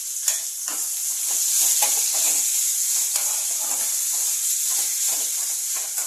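Grated raw mango and curry leaves are stirred in a hot pan, with a continuous close sizzle and hiss broken by repeated scraping strokes of a spoon.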